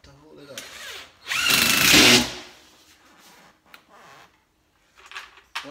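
A power drill drives screws into a fixture in a garage or man cave, one loud sustained whirring burst of about a second, then short quieter bursts, with someone talking around it.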